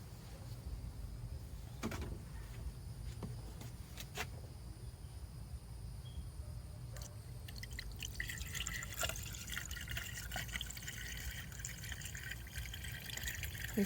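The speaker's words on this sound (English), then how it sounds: "He's still filling up the coolant." Coolant is poured into a 2015 Chrysler Town and Country minivan during a thermostat replacement, making faint, quiet trickling and dripping with a few small clicks and knocks, heard alone without speech.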